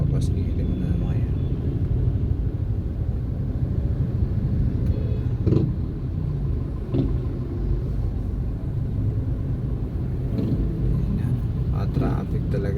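Steady low engine rumble from inside a car crawling through heavy city traffic in Metro Manila near a Pasay flyover, with a continuous road drone, a few brief knocks and voices talking over it.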